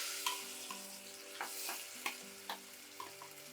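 Ground paste drops into hot gravy for an egg dish and sizzles steadily in the pan, while a spoon stirs and scrapes in regular light knocks about every half second.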